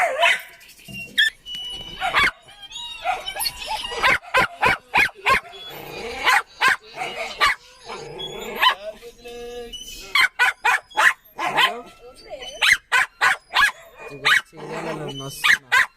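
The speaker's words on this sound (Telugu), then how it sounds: "అమ్ములేడు ఆయన ఊగుతున్నాడని ఇది కూడా రావాలని ఎట్లా అరుస్తుందో చూడండి." Dog barking and whining repeatedly during a Kanuma festival outing, sharp barks coming in irregular bursts close by, with people talking in between and a rooster faintly audible.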